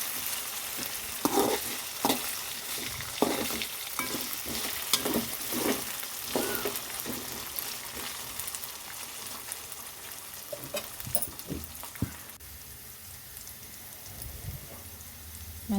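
Raw banana pieces fry in hot oil with a steady, crackling sizzle, broken by repeated sharp scraping and stirring clatters from a spatula, close and alone with no talk.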